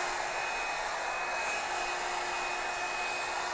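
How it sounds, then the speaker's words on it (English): A Revlon One Step hair dryer blows while styling hair, a loud steady whirring rush with a constant whine, alone and unbroken. "I'm gonna blow dry it out and up"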